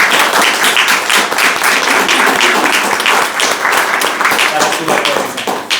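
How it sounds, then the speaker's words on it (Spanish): A class bursts into applause, loud dense clapping from many hands filling the room for several seconds, with voices mixed in beneath it. "Una fuerte aplauso."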